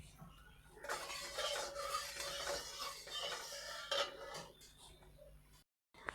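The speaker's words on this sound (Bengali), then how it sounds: "টমেটোটি এবার দিয়ে দিচ্ছি। ভালো মতো তেলটা গরম হয়ে গেছে, এটা ভালো করে ভেজে নেব লো ফ্লেমে।" Sliced tomato goes into hot oil in a pan over a low flame, giving a soft continuous sizzle with scraping and stirring clinks of a utensil against the pan.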